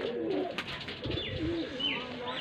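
Home pigeons coo softly nearby, with a few low cooing calls over background noise and no talking.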